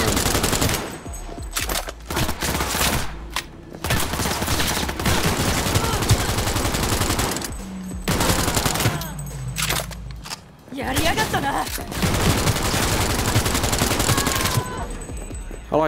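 Hip-fire shooting in Cyberpunk 2077 rattles in long, loud automatic bursts broken by short gaps, with someone talking over the gunfire.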